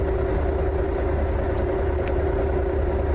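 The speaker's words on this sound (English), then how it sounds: "his engine sounds are getting better and better the more updates he puts out for them" A modded engine on a 389 car hauler truck in American Truck Simulator drones steadily and loudly throughout, a constant humming idle-like tone with no talk over it.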